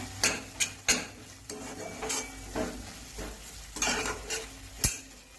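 A spoon stirs kadavanchi bhaji with crushed peanuts in a pan, soft scraping strokes and a few sharp clinks against the metal over a faint sizzle, close and quiet.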